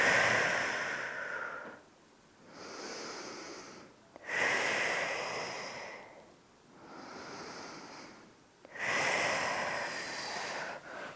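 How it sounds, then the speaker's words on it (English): Slow, deep breaths during a seated flexibility stretching session, three long airy inhale-exhale swells spaced a few seconds apart with quiet gaps between, close and fairly loud, no talking. "just take 2 or 3 nice deep breaths here"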